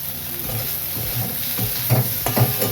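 Drumstick (sajne) flowers frying in a pan with poppy seeds, a steady sizzle and hiss under repeated scraping stirring strokes, close and continuous with louder scrapes near the end.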